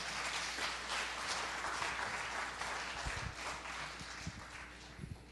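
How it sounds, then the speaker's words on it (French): An audience applauds throughout at a live church gathering, steady dense clapping that continues evenly from start to finish, recorded from a distance with a faint background hum. "On peut l'applaudir, il est très gentil,"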